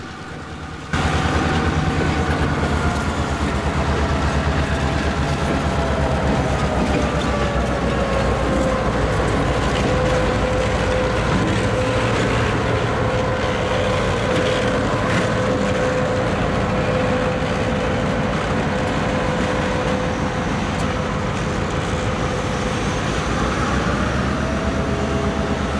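GP38-2 diesel locomotive number 2012 pushes a passenger train up from Pittston Yard. Its heavy, continuous engine rumble carries a steady tonal whine that dips slightly and then returns, with no voices over it.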